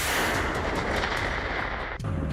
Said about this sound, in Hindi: ये वो धमाका है जिसकी आवाज पूरे यूरोप ने सुनी।